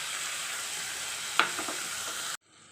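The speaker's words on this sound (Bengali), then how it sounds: "মশলাটাকে ভালো করে ভেজে নিয়েছি" Spices frying with onion and ginger-garlic paste in a pan for a Kolkata-style doi katla fish curry, giving a steady close sizzle with a brief stirring scrape midway, then cutting off abruptly near the end.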